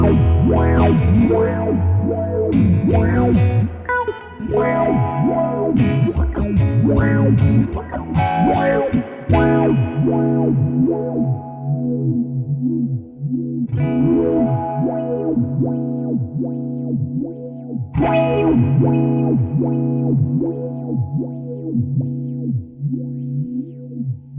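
An electric guitar runs through an Old Blood Noise Float dual moving filter pedal, its sweeping filtered tone shifting as the cutoff changes, with chords ringing out and then restarting, loud and alone.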